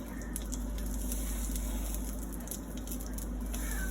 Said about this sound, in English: We got a hot pan here, so it's not taking long to see them bubbles